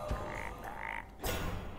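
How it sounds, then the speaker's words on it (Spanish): A frog croaks twice in the Hearthstone card game, bright repeated game sound effects over a busy backdrop of game audio. "Segunda rana."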